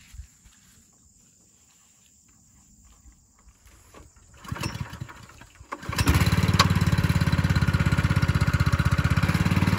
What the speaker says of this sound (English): wheeling back the Honda pump that we've got rigged to the back of the cart here